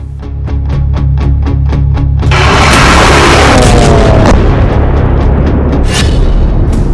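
A ballistic missile strike on the Diego Garcia military base: a loud, sustained explosive roar swells in after a steady low rumble and keeps booming and crackling close and heavy for several seconds, with no speech.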